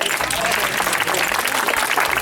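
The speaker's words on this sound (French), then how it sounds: "Je vous demande de les applaudir et de les remercier." An audience at a gourmet walking event applauds two property owners, thick continuous clapping with some voices murmuring beneath it.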